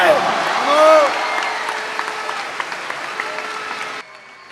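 Applause from a crowd of fans at a reception for the Ontinyent football team, a steady dense clapping that carries across most of the clip before dropping away near the end, with voices mixed in underneath.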